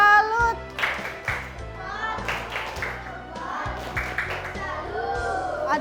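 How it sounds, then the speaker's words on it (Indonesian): A classroom of fifth-grade children clap a patterned salute clap together in rhythmic bursts, with kids' voices and chatter mixed in throughout. "kita beri tepuk salut untuk kelompok macan"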